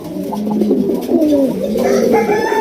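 Red-footed fancy pigeons coo close by, a series of soft, rolling throaty calls repeating over a couple of seconds with little else around.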